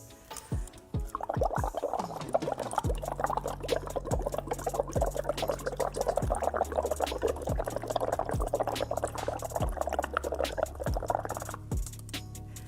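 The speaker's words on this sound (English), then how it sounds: "what happens when you simply blow a little bit of air into the water?" Air is blown through a straw into a glass of alkaline ionized water, producing a steady, close bubbling gurgle that runs for about ten seconds and then stops, with no talk over it.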